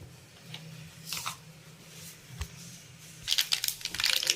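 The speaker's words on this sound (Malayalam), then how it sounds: "കടുക് പൊട്ടിയിരിക്കുന്നു." Mustard seeds crackle and pop in about four spoons of hot coconut oil on a stove while green pea curry is cooked, with scattered sharp pops that build into a dense burst of crackling toward the end, over a low steady hum.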